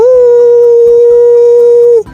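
A cartoon fox in a Hindi animated story lets out one long, loud, sustained wolf-like howl that holds steady before breaking off abruptly.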